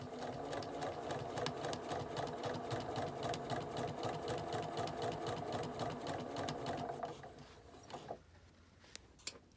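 A sewing machine stitches a LeMoyne Star quilt block with a fast, steady, close mechanical whirr for about seven seconds, then stops, leaving a few faint clicks and a quiet room.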